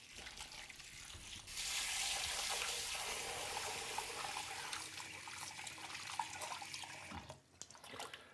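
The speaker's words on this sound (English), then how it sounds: "They're going in a larger bowl so I can just rinse them a bit." Sliced Korean rice cakes for tteokguk, 200 grams, rinsed under running water in a large bowl. A steady wash of splashing water rises after a quiet second and continues for several seconds before briefly dropping off near the end.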